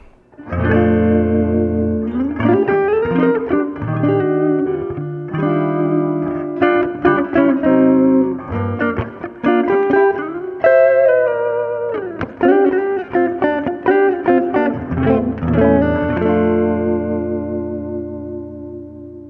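A 1967 Gibson ES-335 electric guitar plays a melodic run of notes and chords, bathed in spacious reverb that lets each note ring out, loud and clear with no talking.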